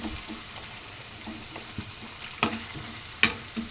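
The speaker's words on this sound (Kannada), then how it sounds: "ಒಂದು ಐದು ನಿಮಿಷ ಫ್ರೈ ಆದಮೇಲೆ ಕಲರ್ ಚೇಂಜ್ ಆಗುತ್ತಲ್ವ ಈರುಳ್ಳಿ ಎಲ್ಲನೂ" Onions and curry leaves fry in a pan, with a steady soft sizzle under several scraping stirs and a couple of sharper clinks against the pan.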